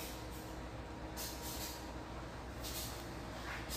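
Inside a quiet, nearly empty passenger train carriage travelling from Banyuwangi to Yogyakarta, a faint, steady rolling rumble with soft hiss continues without a break.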